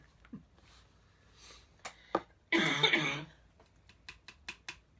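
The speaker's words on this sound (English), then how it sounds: "Of course I have to cough now." A single harsh cough, close and loud, amid quieter sniffs and small clicks.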